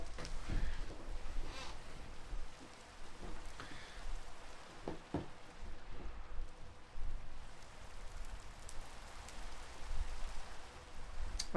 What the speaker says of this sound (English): Well, it's raining again.